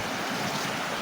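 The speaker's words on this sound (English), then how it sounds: "I've actually found a bit of the river which is much higher and faster." High, fast-flowing river water on a woodland walk gives a dense, continuous rushing roar. It sounds close and loud throughout, with no voices.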